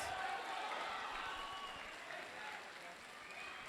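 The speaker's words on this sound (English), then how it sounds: "crowd cheering on Ammar" Arena crowd at a Cage Rage cage fight cheering and clapping, a broad, steady roar heard from a distance with faint whistles, while a commentator's voice speaks over it.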